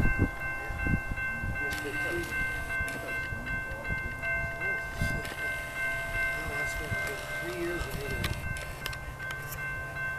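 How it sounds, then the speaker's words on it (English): An outbound Metra commuter train pulls into the station at Riverside, Illinois, with steady rail rumble and clanking under high steady tones, while a station announcement plays over it. "The next outbound Metra train from Chicago is now arriving in your station."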